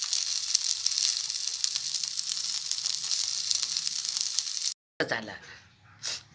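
A crisp rava dosa sizzles on a hot pan with a steady, close, bright hiss for several seconds, then cuts off abruptly as a voice begins talking over faint residual frying.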